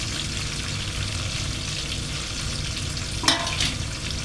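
Dates drop into a pan of hot pickle and sizzle steadily, a continuous close frying hiss with a brief stir or clatter near the end and no talking.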